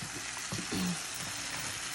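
Onions and peppers frying in a pan for homemade salsa, a steady loud sizzle with a slight stirring scrape that runs the whole time, with no talking.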